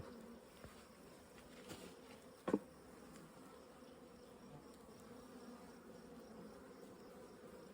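Honey bees in an open hive, a soft, steady colony hum that runs throughout, faint and close, with one brief louder knock partway through.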